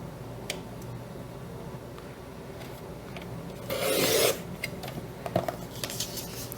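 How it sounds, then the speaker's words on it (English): A paper trimmer slicing through cardstock for a Christmas tree pocket page: one short, close rasping cut in the middle, set among faint handling ticks and rustles. "I'm going to take my trimmer and cut from this middle mark down to this corner here"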